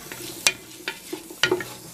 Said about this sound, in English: now we've got the onion sweating